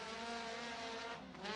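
Number 29, a USAC midget race car, takes the green flag at Santa Maria Speedway, a dirt oval, its engine a loud, steady high-pitched howl under load, briefly wavering near the end.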